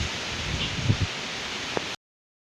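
Strong wind rushing through the leaves of a tamarind tree in a village, a steady broadband rustle with a few louder gusts, close and continuous for about two seconds.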